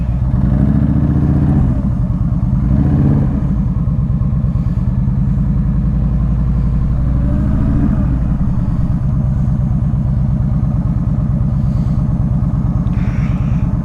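A 2015 Yamaha V Star 1300 Deluxe motorcycle running close by, a loud continuous low engine rumble with a couple of brief swells in revs, no talk.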